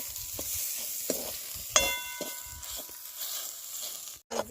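Spices, red chilli powder and black masala, frying and being stirred in a pan for a mutton curry, a steady close sizzle with scraping stirs and a brief clink of utensils.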